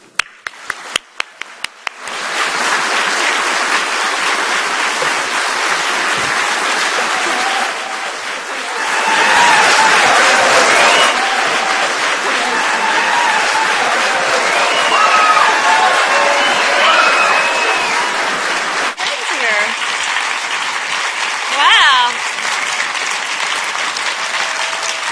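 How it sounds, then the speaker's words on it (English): Sustained applause from a large audience welcoming Dana Perino and Greg Gutfeld at the Bush Library in Texas, steady and loud for about twenty-five seconds, with scattered cheers and whoops rising midway. "they're clapping more for you"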